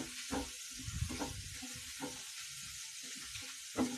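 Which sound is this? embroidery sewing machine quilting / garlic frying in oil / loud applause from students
garlic frying in oil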